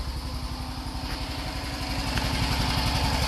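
A microcar's one-cylinder 300cc four-stroke engine idles steadily just after starting, a rapid, even low putter with a light mechanical clatter, close and continuous with no talk.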